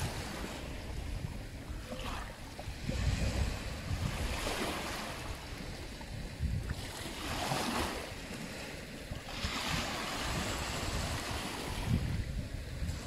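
Sea waves wash in and break in slow surges on a beach at Venice, with wind buffeting the microphone; fairly quiet and steady, no talking.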